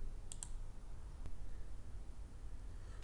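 A quick double mouse click on an Install button during a software setup, two faint, crisp taps over a quiet hiss.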